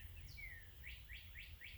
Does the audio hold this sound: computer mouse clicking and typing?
no